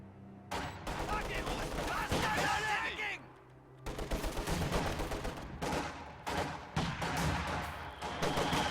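Gunfire and mortar blasts from a strategy video game battle crackle in dense, overlapping bursts with short pauses, while a commentator talks over the fighting.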